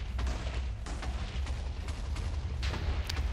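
Explosions in Minecraft from a hostile mob, heard as a run of heavy, rumbling booms and crackling blasts packed closely together, loud and continuous with no talking.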